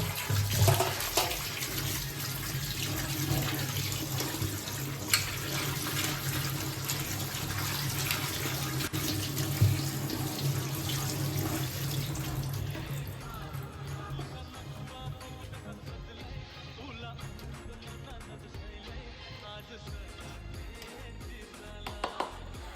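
Tap water runs steadily into a sink while small freshly caught pond fish are rinsed and cleaned by hand, a loud continuous splashing that softens and thins out over the last several seconds.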